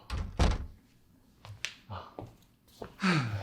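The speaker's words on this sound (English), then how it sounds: "get the door open, boys" A door thunks open and slams shut in a few sharp knocks and bangs, close and fairly loud, alongside some shuffling and breathy voices.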